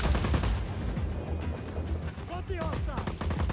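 Enemy gunfire in Just Cause 4, rattling out in dense automatic bursts from a distance, with a person talking over the shooting partway through.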